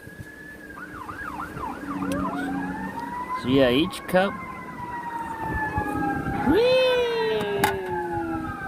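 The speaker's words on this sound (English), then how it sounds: "Fire engine or something." A fire engine siren wails outside, its rising and falling sweeps carrying through from a distance while someone talks nearby over it.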